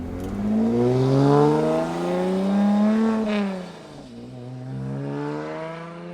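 Tuned 460hp Lotus Exige engine pulling hard while driving, a loud continuous rising drone that climbs through the revs, eases off briefly, then builds again, with no talking over it.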